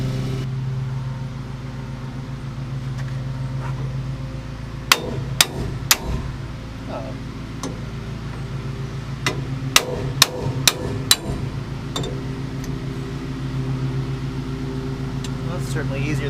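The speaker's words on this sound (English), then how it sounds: "I might just take a hammer to it" A hammer strikes a rusted rear lug stud on a Nissan Hardbody pickup, landing sharp metallic blows in two short clusters over a steady low engine-like hum, with people talking in between.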